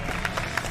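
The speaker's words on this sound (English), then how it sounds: "give these guys a round of applause" Crowd at a British Drift Championship event applauding the drivers, a brief burst of scattered clapping heard at a moderate distance.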